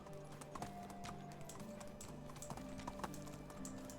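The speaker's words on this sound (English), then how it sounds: "Riding the donkey through the lake is ridiculous." A ridden donkey's hooves clip-clop in a steady, fairly close rhythm over a constant background hum, with a faint tonal sound running underneath and no talking.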